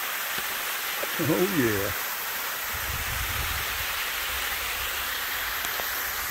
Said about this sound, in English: There's 2 waterfalls almost right next to each other here.